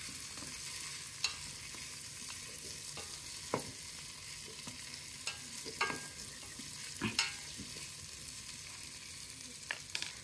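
Chopped leeks sautéing in a pan for a cream of leek and potato soup, with a gentle, quiet sizzle under repeated scrapes and taps of a stirring spoon, no talking.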